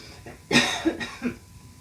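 A few sharp, close coughs in quick succession, the first loudest, followed by two smaller throaty hacks.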